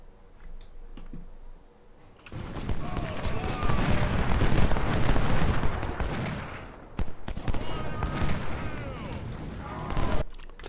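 Cannon and rifle fire in a Civil War battle at Cold Harbor in the strategy game Ultimate General: Civil War, with dense overlapping volleys and crackling shots swelling after a quiet opening, plus scattered interface clicks.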